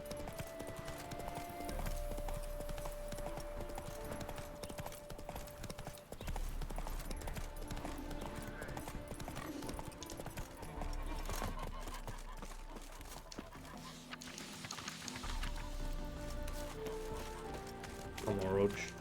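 Steady clip-clop of a galloping horse's hooves in The Witcher 3: Wild Hunt, a fast, continuous rhythm running throughout under game music, with someone talking.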